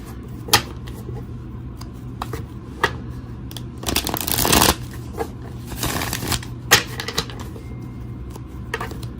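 Playing cards being shuffled by hand, with crisp riffling bursts and scattered sharp snaps and taps, the densest flurries in the middle; nearby and alone without talk.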